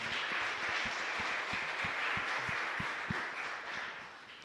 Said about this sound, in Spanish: agradecemos a nuestros servidores, para quienes pido un fuerte aplauso también